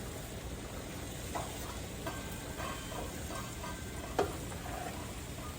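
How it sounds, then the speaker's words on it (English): Homemade sauce of homegrown tomatoes being stirred in a pot, a soft low simmer with a few light spoon knocks, one slightly louder near the end. "Give this all a stir"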